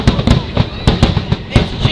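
Fireworks set off in a parking lot crack and pop in rapid, irregular bursts, loud and close, one after another with no pause.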